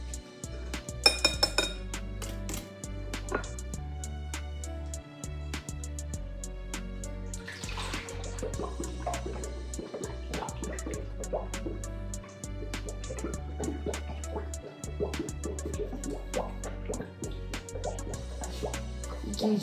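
Ice cream mixture being poured into a running Gourmia ice cream machine, with steady bubbling, glugging and clinking of the liquid over a constant low motor hum, close and continuous throughout.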